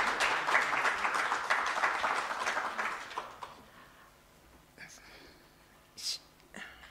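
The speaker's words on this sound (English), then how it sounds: "ladies and gentlemen, please let's give Michelle another round of applause" An audience at a university public lecture applauds Michelle, a strong burst of many hands clapping that tapers off after about three seconds into quiet shuffling and faint noises.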